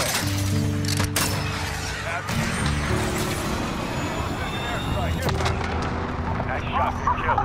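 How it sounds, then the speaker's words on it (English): In the Call of Duty Modern Warfare game, a missile launch and explosion come as a loud, continuous wall of rumbling blasts with several sharp cracks, mixed with dense battle noise throughout. "Missile away."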